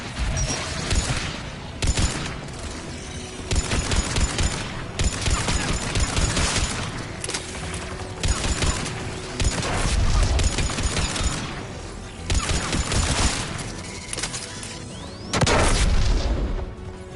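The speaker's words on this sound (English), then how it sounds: "There, the anti-aircraft guns." Anti-aircraft guns fire in the Mass Effect 3 Remastered video game, played on PS5: loud, close booming volleys and dense bursts of shots repeating in waves, with brief whooshes between them and no speech.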